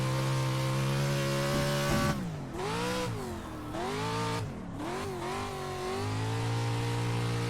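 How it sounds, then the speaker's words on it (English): Pro 2 dirt truck engine racing in the iRacing game, a loud droning roar with repeated rising and falling revs as it brakes and accelerates through corners, no voices. "That's the Pro 2 truck, you guys."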